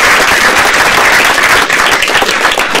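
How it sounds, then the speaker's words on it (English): Sustained, loud applause from an audience at the 2014 ModelOFF Financial Modeling World Championship awards ceremony, a steady dense wash of clapping with no break for the whole stretch. "a big round of applause for Intralinks"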